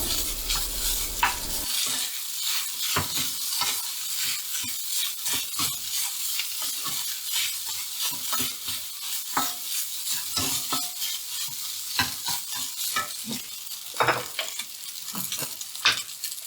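Fried rice with a leftover omelette is stir-fried on a gas stove inside a vehicle, a constant sizzle punctuated by frequent sharp spatula scrapes and clacks against the pan, close and fairly loud.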